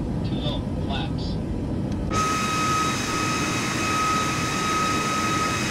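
Boeing 737 Max jet engines in a flight simulator at takeoff rotation: a steady broadband roar with a sustained high whine that swells abruptly partway through and holds, with a faint voice early on.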